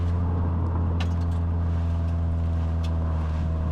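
A Subaru WRX engine drones steadily from inside the car on a spirited drive, a continuous low rumble with strong harmonic hum and no clear revving swells.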